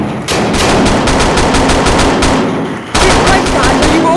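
Loud rapid bursts of automatic gunfire in a VR military shooter game, sustained rattling volleys with a short pause before another burst.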